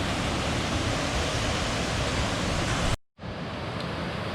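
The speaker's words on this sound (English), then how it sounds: "the waterfall is right there where the stream disappears" A steady roar of falling water where a stream drops away on a West Virginia creek, broadband and constant, briefly cut out for a moment before resuming at the same level.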